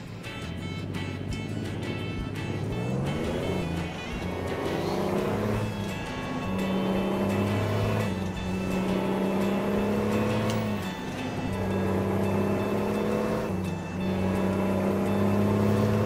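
A truck in American Truck Simulator on a winter run rumbles and drives forward, a steady loud engine drone that rises in pitch through repeated gear changes, continuous throughout.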